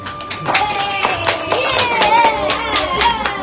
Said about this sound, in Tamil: கைதட்டு வாங்கன்னு பார்த்தேன்.